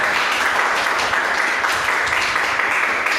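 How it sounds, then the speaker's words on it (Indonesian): Steady, dense applause from a seated audience at an Indonesian campus talk show, continuous and fairly loud for the whole stretch with no gaps. "Tepuk tangan dulu dong."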